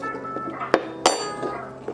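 A couple of sharp clinks of aloe vera gel dropping into a hard blender jar, the second louder, with quiet handling noise around them.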